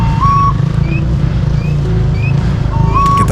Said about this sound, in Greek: τον εκοφαντικό θόρυβο της μηχανής που μάρσαρε 10 μέτρα πιο πίσω του